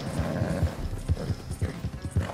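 Horse hooves beat in a steady galloping rhythm during a horse race in the video game Red Dead Redemption 2, a repeated low thudding cadence under a background wash, with no voices.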